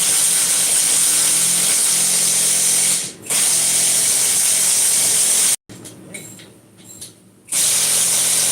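Loud, continuous whine of a power tool tightening bolts on a lawn tractor, close and steady with a short dip midway and a brief pause, then a clattering, ratcheting stretch before the whine resumes.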